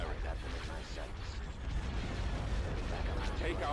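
Starship weapons and explosions in Star Wars Empire at War: Forces of Corruption, a dense, continuous rumble of space battle gunfire with bursts mixed through it, under radio chatter from units.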